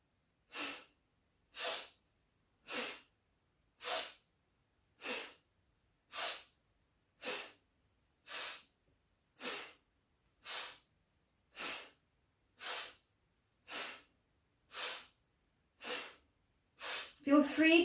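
Fire breathing exercise during spinal flexes: a steady series of about sixteen sharp, forceful breaths through the nose, evenly spaced and close, with silence between each.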